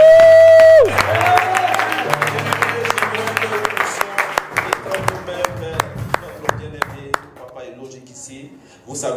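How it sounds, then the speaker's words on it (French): A church congregation at a prayer vigil breaks into loud applause and cheering that thins over several seconds into scattered claps and then fades away. "Acclamons plus fort que cela."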